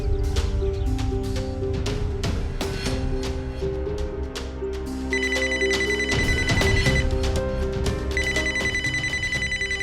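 Loud, repeated electronic telephone ringtone in a domestic scene, trilling in steady bursts with a higher melodic tone joining partway through.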